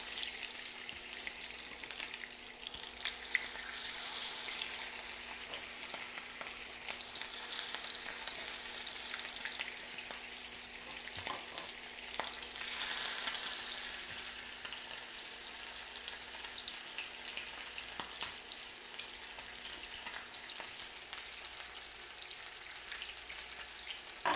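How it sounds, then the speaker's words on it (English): Beef short ribs searing in butter and oil in a pan, a steady, even sizzle and crackle continuing throughout with occasional sharper pops, no voices. "What we're gonna do is go ahead and start searing our ribs."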